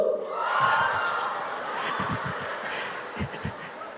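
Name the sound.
church congregation shouting "wuh" in response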